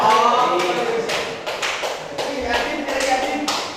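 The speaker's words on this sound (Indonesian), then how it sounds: "kasih tepuk tangan dulu. Kalian semuanya." Classroom applause as a group of students claps in irregular bursts, sharp close slaps rising and fading over a few seconds, with voices audible in the room.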